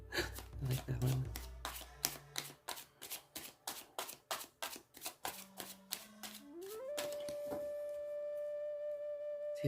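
Tarot cards shuffled in a rapid run of crisp riffling slaps, close and fairly loud, ending in a steady tone and hum.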